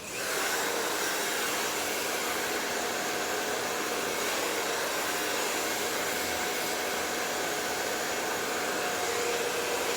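A hair dryer runs continuously, blowing hair dry over a brush while a bob is styled. The motor holds a loud, steady, close whoosh for the whole stretch, with no voices.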